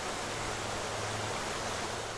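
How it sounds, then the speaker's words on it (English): Leapers Creek in Williamson County flows in a steady, full rushing wash of water, heard alone at moderate volume without any voices. "Listening to Leapers Creek can be peaceful."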